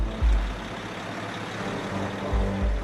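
A logging truck crosses a narrow bridge in the Gabon rainforest, its heavy engine giving a steady low rumble that swells at the start and again near the end, with no talk.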